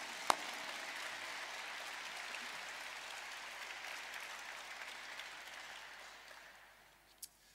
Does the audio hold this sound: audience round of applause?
yes